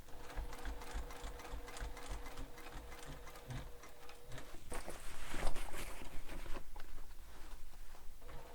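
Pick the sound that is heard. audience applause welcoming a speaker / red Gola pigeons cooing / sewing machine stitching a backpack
sewing machine stitching a backpack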